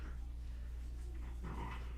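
A puppy romps in the background while a ball is thrown for it, giving faint, continuous scuffling with soft growly dog noises low under a steady hum, at a distance throughout.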